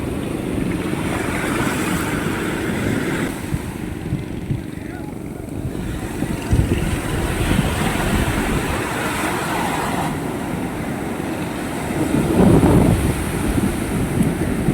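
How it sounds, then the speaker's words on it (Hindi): Sea waves breaking at Marina Beach in Chennai, a continuous broad wash of surf roaring under strong wind buffeting on the microphone, with a louder surge near the end. "ऐसा लग रहा है कि ये लहरें आगे बढ़ बढ़ कर हमारा स्वागत कर रही हैं।"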